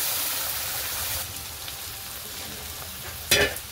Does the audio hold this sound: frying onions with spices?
yes